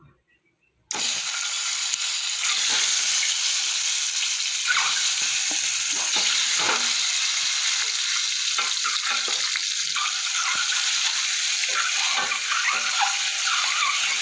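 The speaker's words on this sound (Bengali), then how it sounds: "একটু লবণ সামান্য একটু কাশ্মীর লঙ্কার গুঁড়ো দিয়ে আমি ডিমটা ভেজে নেব" An egg seasoned with salt and Kashmiri chilli powder fries in hot oil in a pan, a loud continuous sizzle that bursts in abruptly after a brief quiet start, with occasional crackles and spits.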